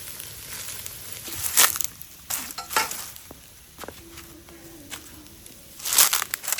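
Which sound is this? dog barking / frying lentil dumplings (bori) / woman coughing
frying lentil dumplings (bori)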